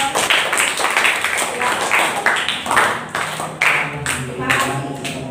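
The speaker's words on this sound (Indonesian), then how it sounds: "beri tepuk tangan untuk kelompok hijau" Seventh-grade students in an Indonesian classroom clap for a presenting group, a quick, lively patter of many hands at moderate volume that fades slightly toward the end.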